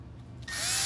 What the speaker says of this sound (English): So you can drill into it without damaging